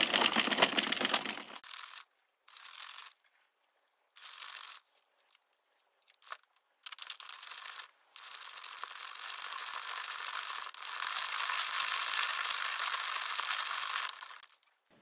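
A circular knitting machine cranked round with thick cotton yarn gives off bursts of dry, clicking, ratcheting clatter that start and stop in a choppy rhythm, then settle into a longer steady run, close up and fairly quiet.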